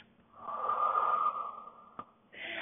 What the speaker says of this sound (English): You're going to breathe out to tilt.